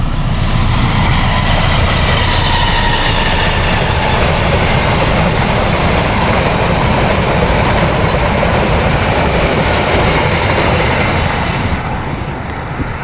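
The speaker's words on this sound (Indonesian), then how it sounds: "kita lihat kereta dulu ya. Kereta apa ini?" The Fajar Utama train to Pasar Senen, Indonesia, thunders past close by, loud continuous rumble with clattering wheels on the rails, tapering off in the final seconds.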